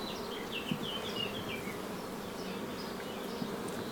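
Honeybees buzz around an open hive frame where the queen and workers move over fresh comb and nectar, a dense steady drone with individual bees whining past close by.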